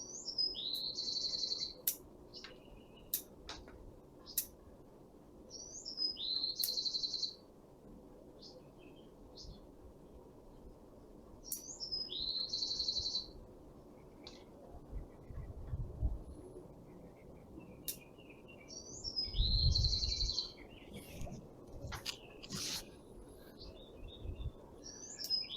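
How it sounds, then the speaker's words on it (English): Small birds chirp outdoors in short, high, repeated bursts scattered across the clip, fairly distinct over a low background hum with occasional soft handling noises. "I don't know if you can hear those birds"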